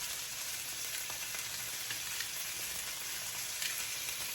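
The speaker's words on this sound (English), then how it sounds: "Now the point of this is getting a good sear on it." Seasoned meat searing in a hot pan gives off a steady, dense sizzle close by, continuous and even throughout, with no voices.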